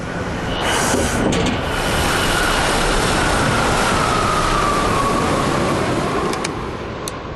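A train runs on a railway test range, producing a steady, loud rumble and rushing noise throughout with faint clanks along the way.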